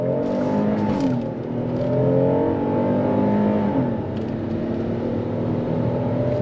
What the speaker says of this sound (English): All right, let's go on throttle again. On throttle, here we go.